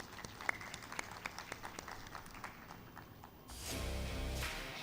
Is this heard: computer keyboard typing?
no